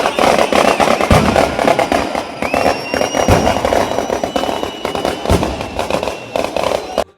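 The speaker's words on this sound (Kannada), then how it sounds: "ಮದ್ದು ಗುಂಡಿನ ಸೌಂಡ್ ಅಂತೂ ಹೆವಿಯಾಗೆ ಇತ್ತು ಬಿಡಿ." Firecrackers burst nonstop at a Ganesha immersion procession. The sharp, crackling pops come in dense, loud volleys, with a faint whistle rising partway through.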